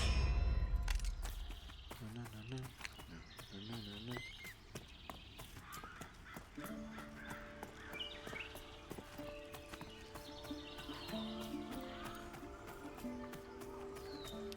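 Horse hooves clip-clop steadily amid game sound effects in Pantheon: Rise of the Fallen, with metallic clangs and dings, music and occasional voices in the background.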